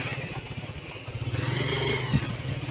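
A motorcycle engine runs close by with a steady low rumble that swells slightly, amid street noise and background voices.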